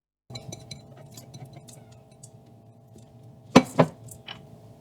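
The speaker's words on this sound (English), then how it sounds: "Into the pot with the drained rice." Drained rice tipped into a metal pot with a few soft rattling grains, then two sharp clinks of a utensil against the pot, quiet and close.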